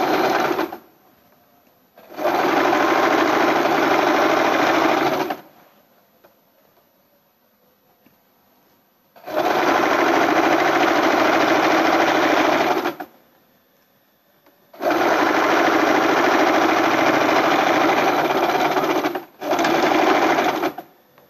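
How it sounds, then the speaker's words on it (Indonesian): A sewing machine stitches piping onto a garment sleeve, sewn one millimetre from the edge, running in four loud, steady bursts of about three to four seconds each, with short quiet pauses between them. "kita perlu jahit serip di lengan, sama tahapannya atau langkahnya seperti tadi, dijahit 1 mili dari tepi"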